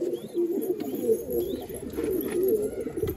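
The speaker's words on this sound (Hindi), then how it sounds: "सारनपुरी कबूतरी है" A Saharanpuri hen pigeon held in the hand coos softly and repeatedly in low, throaty notes. The calls are close but quiet, and no one talks over them.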